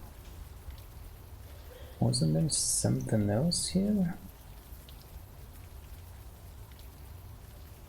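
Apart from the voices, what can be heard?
rain in the video game Unavowed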